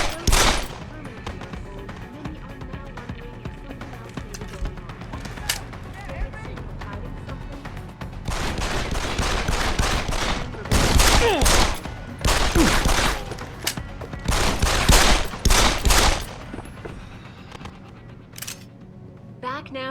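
Bursts of rapid gunfire crackle in dense volleys in the video game Deus Ex: Human Revolution, with quieter scattered shots before and after the heaviest stretch, and voices talking in between.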